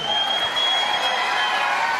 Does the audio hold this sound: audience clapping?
yes